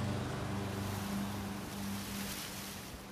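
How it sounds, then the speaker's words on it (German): A distant airplane flies over in the video game Everybody's Gone To The Rapture, giving a low, steady droning rumble over a wash of wind-like noise that fades slightly over about three seconds, with no talking. "Das war im Spiel, ein Flugzeug."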